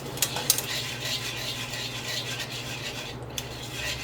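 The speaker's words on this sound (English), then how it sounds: "whisk it very well because it is going to be lumpy" A whisk beating lumpy batter in a pan, a continuous quick scraping and swishing with a few sharper metallic clicks against the pan, close and moderately quiet, with no talking.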